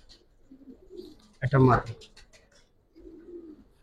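Giribaz pigeons cooing softly in low murmurs before and after a short burst of nearby speech, the coos faint and intermittent against a quiet background.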